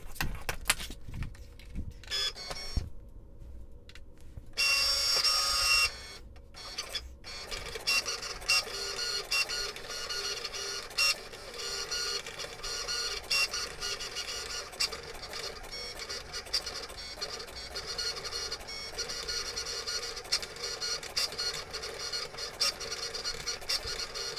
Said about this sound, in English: that's ready to be added into the Cricut and cut out into our envelope letters